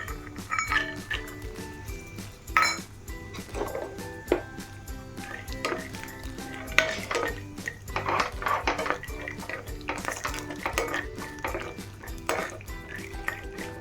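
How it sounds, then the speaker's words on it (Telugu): Peanuts fry in hot oil in a kadai with irregular clinks and scrapes of a metal spoon stirring against the pan, over a soft steady sizzle. "వీటిలో ముందుగా పల్లీలు వేపుకుందాం."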